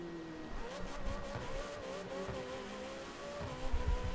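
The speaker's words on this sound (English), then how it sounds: "this car sounds so good" A sports car's engine revs and drones in The Crew 2 racing game, a steady mid-loud motor tone with shifting pitch and a louder surge near the end.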